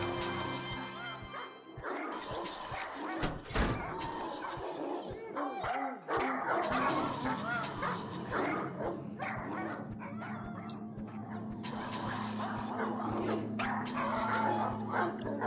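Dog barking in the Resident Evil game amid dense game music and effects, with sharp yelps and barks over a continuous busy soundtrack.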